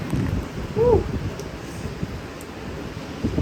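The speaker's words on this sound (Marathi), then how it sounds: "वारा आणि पाऊस दोन्ही सुरू आहे" Wind and rain outdoors on a sunny, showery day beside a swollen stream, heard as a steady low rumbling roar of gusts with a brief chirp early on; no one speaks.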